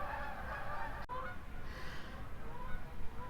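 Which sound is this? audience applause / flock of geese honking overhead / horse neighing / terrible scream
flock of geese honking overhead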